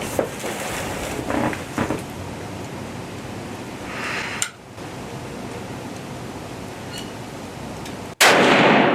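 A hunting rifle fires at a deer from a homemade deer stand, one sudden loud crack near the end after a long stretch of quiet outdoor hiss.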